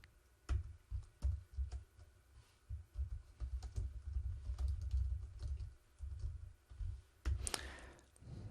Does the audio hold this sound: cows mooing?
no